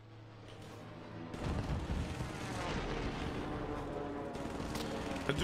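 Sniper gunfire in the Warzone video game, a deep booming shot followed by a long rumbling roar that keeps up under the game's background noise.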